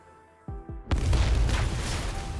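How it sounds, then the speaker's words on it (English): Flashbang going off in the game Arknights: two quick dull thuds, then a loud bursting blast that spreads into a sustained ringing hiss and rumble, close and heavy, no talking. "Ah, fucking flashbang."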